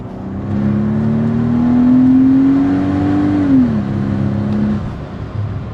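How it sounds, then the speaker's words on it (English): A Mercedes SL65 AMG Black Series V12 accelerates hard under load, a loud steady induction roar whose pitch climbs smoothly, then drops as the gear changes, with the engine droning on afterward. "You get a lot of crackles and pops like right now, but just the sound that the V12 makes, you hear more induction than anything."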